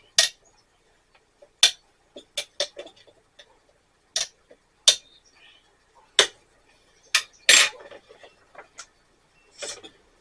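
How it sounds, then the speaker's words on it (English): A spoon stirs coffee in a cup, sharp scattered clinks of metal on ceramic tapping out irregularly against near silence. "give it a little stir."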